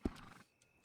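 A horse whinnies in Red Dead Redemption 2, a short sharp neigh that trails off quickly. Faint hoof or tack noise follows, with no talking.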